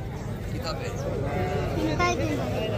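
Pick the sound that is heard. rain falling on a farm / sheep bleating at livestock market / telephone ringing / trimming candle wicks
sheep bleating at livestock market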